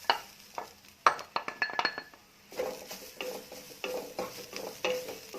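Coconut tipped into a hot pan and stirred, with repeated scraping and clinking of a utensil against the metal over a soft sizzle, close and busy.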